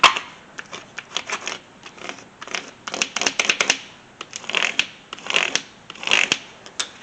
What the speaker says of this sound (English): I'm going to use the flattener here to really make sure that the transfer tape is stuck well to the vinyl.